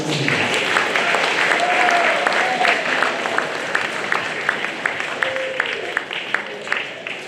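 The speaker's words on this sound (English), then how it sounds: "Let's have another round of applause for all of the speakers." Steady applause for student finalists' presentations fills the room, loud and continuous at first, then thinning into scattered claps with a few voices mixed in.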